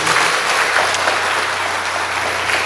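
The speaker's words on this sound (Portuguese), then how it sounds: "Vamos dar uma salva de palmas para a palavra de Deus?" Congregation applauding at a Catholic sermon, a continuous wash of clapping from many hands in a hall, steady and fairly loud throughout.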